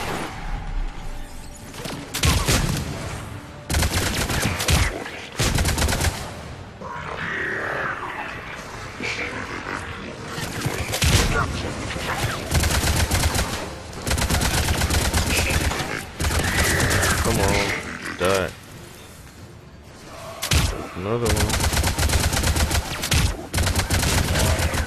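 Gunfire in the video game Mass Effect: repeated loud bursts of automatic shots come in dense volleys separated by short pauses, with occasional grunts in between.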